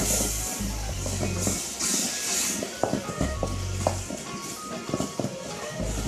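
Ugandan curry powder is mixed into softened tomatoes and onions in a saucepan, giving a soft hiss and sizzle broken by scraping, clinking spoon strokes at an irregular pace, with low hum underneath.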